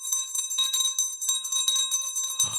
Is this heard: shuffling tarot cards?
no